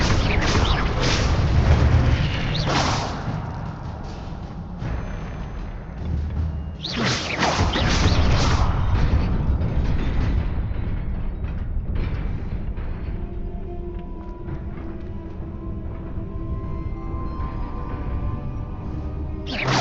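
The Incendio fire spell is cast in the Hogwarts Legacy video game. It makes heavy booming whooshes and crackling bursts that come close together in waves, loud and full, then settle into a lower rumbling tail.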